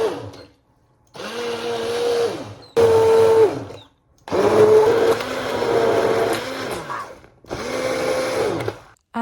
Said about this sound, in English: blend the vegetables until you get a homogeneous